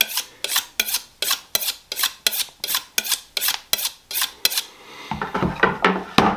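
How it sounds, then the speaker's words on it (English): A butcher hones a knife on a sharpening steel while preparing bone-in ribeye steaks, giving about a dozen crisp, evenly spaced metallic scrapes, close and loud, then a few slower, heavier strokes at the end. "Give my knife a little steel here."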